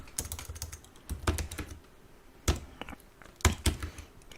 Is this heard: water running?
no